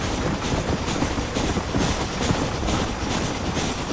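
A train rolling along the tracks in the Red Dead Redemption video game, a dense, steady rumble with faint repeating clickety-clack, loud and close, without voices.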